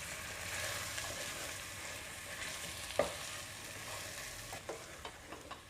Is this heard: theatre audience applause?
no